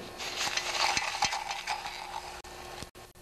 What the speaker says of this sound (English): Now I'll just let it go back in.